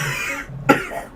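A man imitates a cough with his voice, giving one short, sharp, close hack after a brief breathy lead-in.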